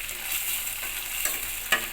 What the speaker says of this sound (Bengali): এখন আমি এই টমেটোর পিউরিটা দিয়ে দেবো।